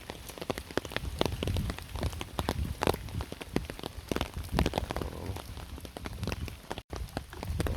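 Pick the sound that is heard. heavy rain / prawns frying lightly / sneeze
heavy rain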